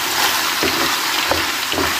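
Potatoes, mushrooms and onion fry in oil in a pan, a loud, close, continuous sizzle with a few soft scrapes and knocks as they are stirred.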